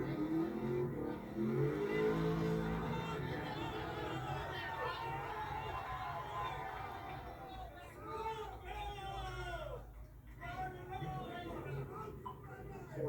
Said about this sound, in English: I got other people doing burnouts as well.